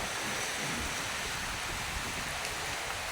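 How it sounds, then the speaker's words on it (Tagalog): Strong typhoon wind roars along the coast at Borongan with waves breaking, a steady, loud broadband rush that fills the scene without pause and with no voices. "hindi naman malalaki ang mga alon pero ang hangin ay masyadong malakas"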